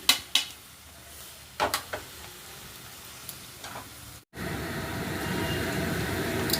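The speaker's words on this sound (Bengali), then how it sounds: "এর মধ্যে রয়েছে 3টি বড় পেঁয়াজ কুচি। এগুলো এখন ভাজি।" Three large chopped onions sizzling in hot oil for a tadka, with a few sharp clattering clicks early on, a brief dropout, then a steady, louder frying hiss filling the rest.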